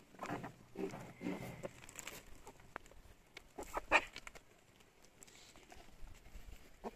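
Chickens in a village yard give scattered soft clucks and short calls amid faint rustling and occasional knocks, fairly quiet and uneven, with no clear speech.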